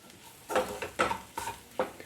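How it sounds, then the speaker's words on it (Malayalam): Masala for chicken curry frying in leftover oil from earlier fried chicken, with a few bursts of stirring and sizzling scrapes in a pan, close and moderately loud, separated by short quieter gaps. "മസാലയൊക്കെ നന്നായിട്ട് തന്നെ മൂത്ത് വരുന്നുണ്ട്, കണ്ടോ."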